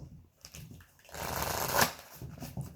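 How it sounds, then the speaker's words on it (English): A brand-new Sacred Geometry of Relationships oracle card deck being shuffled, a soft papery riffle that swells into a dense, steady flutter of cards for a couple of seconds before easing off. "I'm just going to shuffle my brand new deck, the Sacred Geometry of Relationships Oracle"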